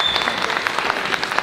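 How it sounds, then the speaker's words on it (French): Applause from students in a lecture hall at a conference on SEO and user experience, a steady dense patter of many hands clapping, fairly close and filling the whole stretch without talk. "je pense que les étudiants pourront applaudir Alban"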